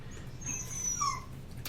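A dog gives a thin, high whimpering whine that rises and falls briefly, heard close and moderately loud over a low steady background hum.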